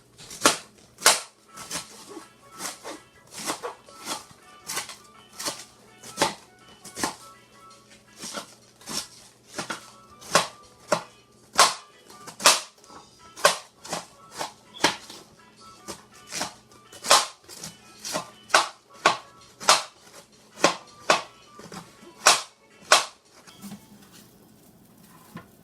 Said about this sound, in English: So now you want to chop up this cabbage,